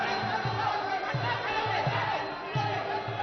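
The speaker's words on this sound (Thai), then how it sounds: "เสียงเชียร์นี่ดังขึ้นมาเป็นระยะครับ" Crowd at a Muay Thai bout cheers and shouts in swelling bursts, a dense roar of many voices with rhythmic low thumps running beneath, steady and fairly loud throughout.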